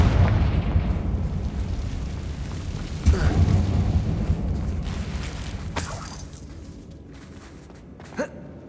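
Confringo fire-blasting spells in the Hogwarts Legacy video game go off in a few booming bursts over a low rumbling background, with a sharp crack near the middle and another short pop toward the end.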